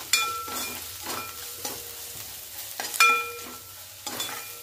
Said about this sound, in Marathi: आता हे परतून घेऊया।